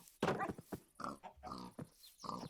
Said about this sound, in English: I got all the pigs and the pig man